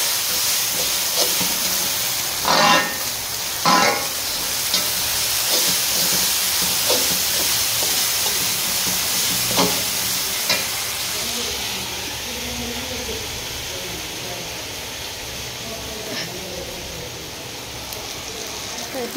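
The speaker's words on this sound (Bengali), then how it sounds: "দেখো টমেটোটা একটু ভাজা করে নিয়ে এখন আদা রসুনটাও দিয়ে দিয়েছি।" Tomato, ginger and garlic fry in a pan, a continuous hiss and sizzle with a few sharp clatters of utensil early on, while someone talks over it.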